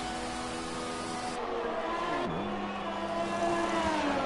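F1 race car engines from the F1 2020 video game at Abu Dhabi whine at high pitch with smooth gear-shift dips, a continuous layered engine drone with no talk.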